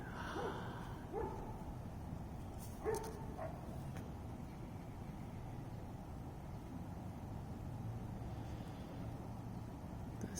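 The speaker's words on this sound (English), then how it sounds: "I don't know why dogs are barking suddenly." Dogs bark a few times in the distance, faint short yips and barks clustered early on over a steady background hiss.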